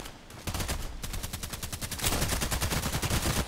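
Rapid, loud automatic gunfire in the shooter game Contract Wars, a sustained close-range stream of shots that grows denser and more intense partway through, with no talking.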